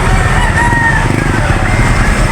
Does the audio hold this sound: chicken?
yes